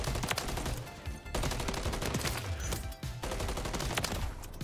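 Gunfire rattles in the video game Modern Warfare 3 as dense bursts of automatic shots, loud and continuous with a few brief pauses between volleys.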